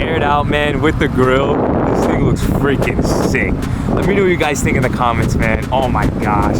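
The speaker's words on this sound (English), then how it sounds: "it's super windy right now" Heavy wind near the water buffets the microphone in constant rumbling gusts while someone talks excitedly over it beside a Subaru WRX STI.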